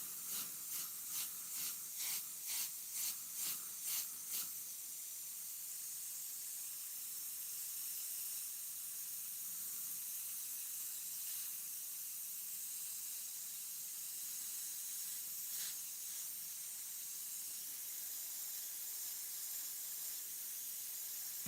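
Airbrush spraying paint for a night-sky forest galaxy landscape, opening with a quick run of short hissing bursts, then settling into a steady, faint continuous spray hiss with a couple of later brief puffs.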